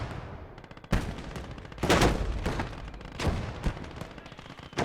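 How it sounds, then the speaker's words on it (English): Mortar fire in the World War II strategy game Gates of Hell: a string of heavy booms and blasts, several close and loud, spaced irregularly over a constant rumbling battlefield backdrop, with no voices. "Mortar's going strong, providing a lot of support"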